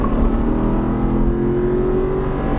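An Aston Martin V8 Vantage accelerates hard around the Silverstone circuit, its engine note climbing steadily through one loud, close gear as the revs rise, with no talking.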